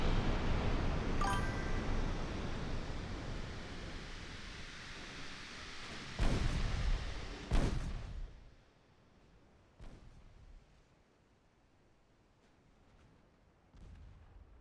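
Warship guns firing in Ultimate Admiral Dreadnoughts. A long rumbling roar opens, then several heavy booms follow at uneven intervals and fade into quiet.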